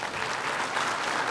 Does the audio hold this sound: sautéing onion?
no